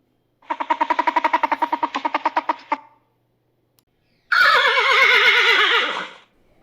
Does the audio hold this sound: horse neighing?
yes